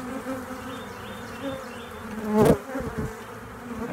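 Agitated honey bees buzz steadily around an opened hive, a dense close hum that swells into a louder burst midway before settling back to a constant drone.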